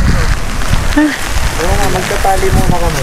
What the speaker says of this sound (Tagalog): sobrang lakas ng ulan, lakas ng hangin